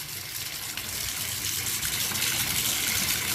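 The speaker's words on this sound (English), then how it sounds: "I'm going to run some water here" Tap water gushes steadily into a slow-draining bathtub, a continuous close rushing and splashing with no talk over it.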